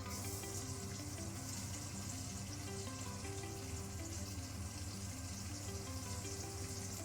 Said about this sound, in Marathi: दीड पळी तेल टाकलेलं आहे. मी कांदा टाकते आता फोडणीला.